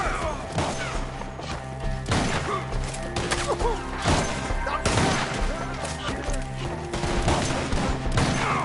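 Video game gunfire crackles in repeated bursts and sharp impacts throughout, close and loud, mixed with shouting voices.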